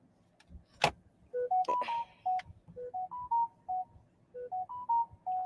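Series of short, evenly spaced telephone keypad tones beeping in a dialing rhythm, preceded by a couple of sharp clicks, fairly quiet and with no talking.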